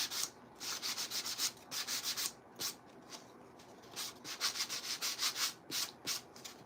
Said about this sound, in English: we're also going to just add a little bit of rub and buff with our gold